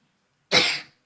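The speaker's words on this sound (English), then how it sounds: "That was a cough." A single short, close cough bursts out after a moment of silence and fades quickly.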